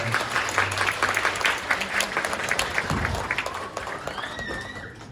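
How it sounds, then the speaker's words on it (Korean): Wedding guests applauding in a wedding hall, dense, lively clapping that swells early and gradually tapers off, with a few voices and a faint tonal sound near the end. "여러분 큰 박수 부탁드립니다"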